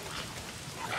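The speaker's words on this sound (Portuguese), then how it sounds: "Se não são os frenéticos, é essa merda de chuva." Steady rain falls in the Days Gone video game, a dense, even hiss of drops that fills the whole second with no voices over it.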